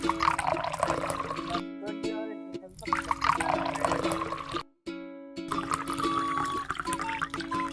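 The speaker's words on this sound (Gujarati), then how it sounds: "હાલો બધાને પાણી ભરી દઉં" Water runs and pours steadily as containers are filled, a continuous trickling rush with brief breaks, mixed with a steady mechanical hum and faint background voices.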